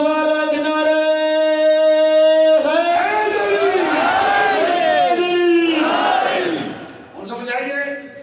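A large crowd at a religious gathering roars chanted slogans in unison, loud bellowing responses that swell and fade in bursts after a sustained tonal voice, filling most of the clip.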